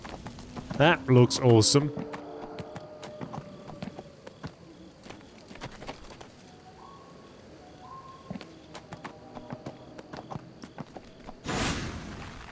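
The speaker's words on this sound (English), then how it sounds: "That dude over there is riding some sort of ghost horse" Clip-clop hoofbeats of a ghost horse in the video game Neverwinter, a quick run of steps over game ambience and scattered clicks, with someone speaking briefly near the start.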